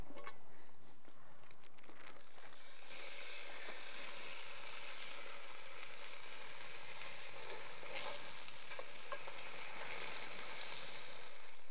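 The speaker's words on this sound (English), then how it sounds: "the first step is to crisp up your bacon. So we'll just throw it in and cook it up a little bit" Bacon crisping in a cast-iron Dutch oven set over hot coals gives a steady, dense sizzle with fine crackles and pops throughout, growing fuller after the first couple of seconds.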